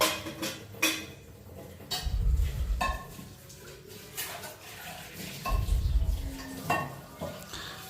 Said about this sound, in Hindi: सो अभी मैं बर्तन सबसे पहले धो लूँगी।